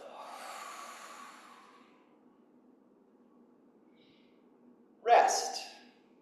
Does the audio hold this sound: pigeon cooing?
no